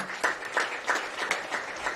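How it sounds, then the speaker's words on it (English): A crowd at a varsity high school football game ceremony gives a short round of applause: scattered clapping with audible individual claps, fairly close and moderately loud, with no talk over it. "Let's give him a round of applause anyway."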